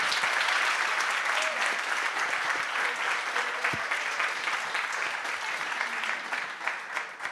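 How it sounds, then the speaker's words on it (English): Sustained, fairly loud applause from a CreativeMornings audience in New York for Eli Pariser after his talk, many hands clapping evenly and tapering slightly near the end. "Can we give another round of applause for Eli?"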